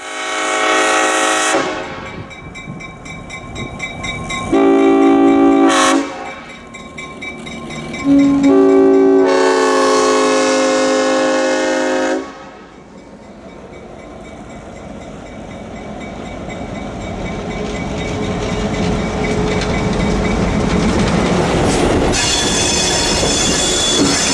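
A freight train on the Eustis branch passes with loud blasts of its horn, then a long, growing screech of squealing wheels over the rails, close and sustained.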